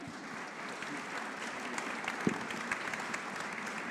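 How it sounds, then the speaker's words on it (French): An audience at a conference on restaurant consumer habits applauds its speakers, a sustained wash of clapping from a sizeable crowd that stays fairly even throughout, with one sharper thump partway through. "Je pense qu'on peut les applaudir"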